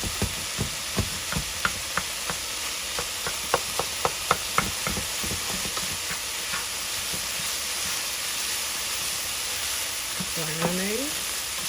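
Meat for a Southern-style baked spaghetti sauce sizzles steadily in a pan, a constant frying hiss dotted with sharp pops and occasional spoon scrapes, with no talking.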